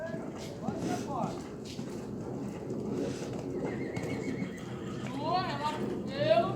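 A horse during a show-jumping training session, neighing over steady clip-clop of hooves, with birds faintly in the background and an instructor talking throughout.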